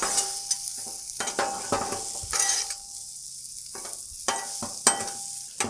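Butter sizzles on a hot Blackstone griddle in bursts, while a spatula scrapes and mixes at close range, leaving brief quieter gaps between the strokes.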